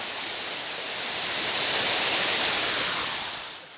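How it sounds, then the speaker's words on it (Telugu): Rani Duduma waterfall near Araku, Koraput, Odisha, pours with a dense, steady roar of falling water, broad and loud, swelling slightly midway with no voices. "మనకి వైజాగ్కి దగ్గరలో 170 కిలోమీటర్స్లో ఇంత బ్యూటిఫుల్ వాటర్ఫాల్ ఉంది"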